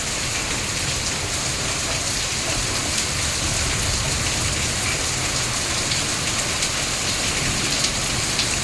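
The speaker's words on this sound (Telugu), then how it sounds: "మంచి వర్షం పడ్డదండి" Heavy rain pours steadily during a hailstorm over farmland where harvested paddy lies, a dense, unbroken wash of drumming drops that stays loud and even throughout.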